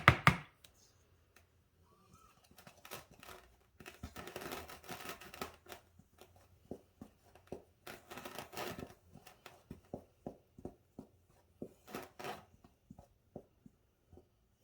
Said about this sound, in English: we're gonna whisk this together here